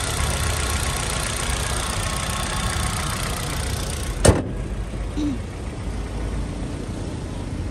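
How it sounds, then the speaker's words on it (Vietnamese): A 2012 Hyundai Accent manual car engine idles smoothly and evenly, a steady low hum, broken once by a sharp click partway through. "máy nổ rất êm các bác nhé rất là êm luôn đấy ạ để bác nghe cái máy này"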